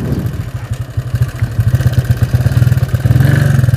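A motorcycle engine fitted with a PWK 62mm carburetor runs loud and close, its rapid firing pulses chugging unevenly and then quickening into a denser, harder beat as the throttle opens.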